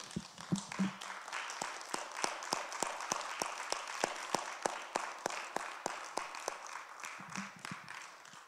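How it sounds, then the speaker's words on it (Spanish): Congregation at a Spanish-language church service applauding for the Lord, a steady run of sharp, evenly spaced hand claps filling the room at moderate volume, with a few brief voices near the start and end. "Un fuerte aplauso para nuestro Señor."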